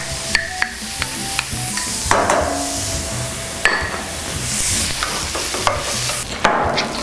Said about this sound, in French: Voilà, mes oignons sont rissolés.